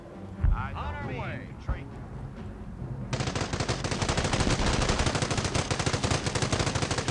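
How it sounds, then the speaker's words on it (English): Dense, continuous rapid machine gun fire in the WWII strategy game Company of Heroes Mobile starts abruptly after a few seconds and stays loud and steady, following earlier scattered game sounds and a brief spoken voice. "It's a well-placed machine gun, as you can see, because I was expecting this."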